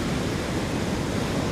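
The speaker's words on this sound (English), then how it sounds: "with the waves, you got the back current, the waves pushing in and out" Ocean surf where striped bass are fished, a steady broad roar of breaking waves and rushing water with no pauses and no voices.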